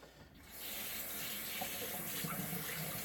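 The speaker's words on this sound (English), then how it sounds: "Put in some hot water here." Hot water runs steadily from a tap over a synthetic shaving brush, a continuous splashing stream starting abruptly after a brief quiet moment and staying close and even throughout.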